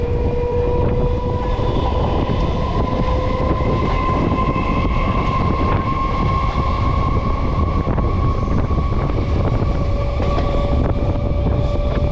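A train rumbles steadily throughout on a ride toward Tambaram Sanatorium near Chennai, with a continuous loud rolling drone and steady tonal whine from inside the carriage and no talking.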